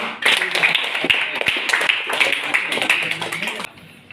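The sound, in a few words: audience applause clapping for a group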